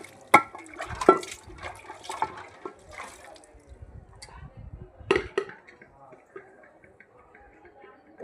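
Tap water runs and splashes while dishes are washed by hand at home, with sharp clinks of metal bowls and utensils knocking together and a person talking intermittently.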